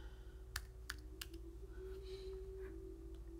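Several sharp keystrokes on a computer keyboard, typing a short word during a craft software class; isolated clicks early on, then a quieter stretch with steady background hum, no talking.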